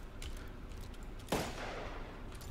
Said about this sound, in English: the gunshot sound seems so low.